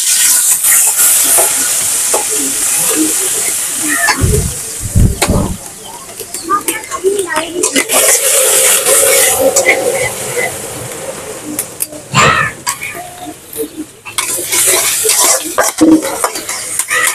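Onion paste fries loudly in soybean oil for a fish curry, a strong continuous sizzle broken by clattering spoon and pan knocks and stirring bursts, close and busy throughout.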